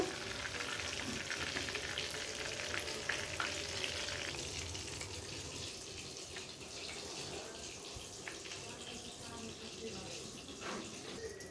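Cabbage and egg fritters, made with no flour, frying in a pan give a steady, close sizzle that runs the whole time, with faint clinks and stirring touches on top.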